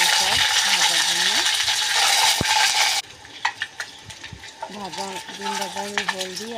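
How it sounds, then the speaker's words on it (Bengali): Boiled eggs fry in hot oil in a pan with a loud, hissing sizzle at first, then quieter crackling and utensil clinks while a person talks. "এক এক করে ডিমগুলো দিয়ে দেবো সব ভাজার জন্য।"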